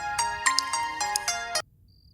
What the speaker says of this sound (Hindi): विनय का ही फोन आ रहा है।